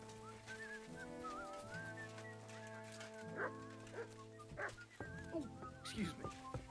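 A dog in the video game Kingdom Come Deliverance 2 gives short yips and whimpers, mixed with whistling tones and an underlying game music score, moderately close and fairly quiet.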